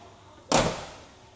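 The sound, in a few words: car door closing on a classic Super Sport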